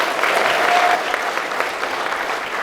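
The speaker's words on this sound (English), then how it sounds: "So going to have a round of applause for the traders on the Reek." An audience at a film premiere applauding, a dense, steady wash of clapping from many hands that stays even throughout, heard close and loud.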